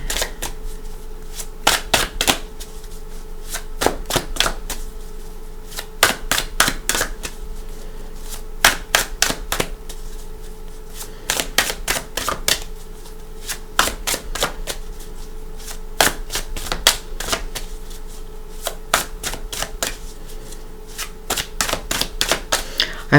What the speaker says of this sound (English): I have to say, shuffling just calms my mind. The sound of it